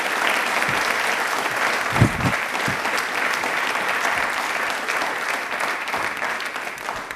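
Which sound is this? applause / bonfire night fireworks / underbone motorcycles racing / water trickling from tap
applause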